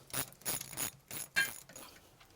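Ratchet tightening bolts on a Mercury Bravo III sterndrive outdrive, several short close clicking bursts of rapid pawl ticks separated by brief pauses, quiet and metallic.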